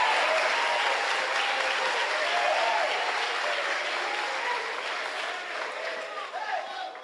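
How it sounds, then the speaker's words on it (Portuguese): A church congregation at a Sunday evening worship service applauds as a dense, sustained roar of clapping that holds for several seconds, with voices and cheers mixed in. "Quer aplaudir?"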